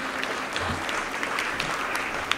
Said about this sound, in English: Another round of applause for them, tafadhali.